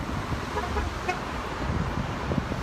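Passing traffic on a roadway with car horns tooting briefly amid a constant wash of road noise, the honks short and somewhat distant.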